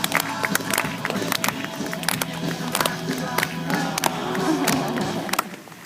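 Audience clapping at an aquarium sea lion show, a dense patter of many hands with scattered sharp claps and crowd murmur, fairly loud and steady before tapering at the end.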